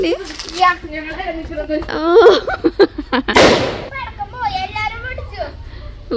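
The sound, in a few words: firecrackers bursting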